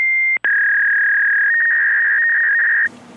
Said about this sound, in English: Y'all like my little call-in sound?